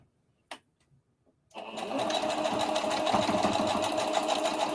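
After a couple of soft clicks, a sewing machine starts up and runs at a steady, fast stitching rhythm while sewing a circle dress, loud and close.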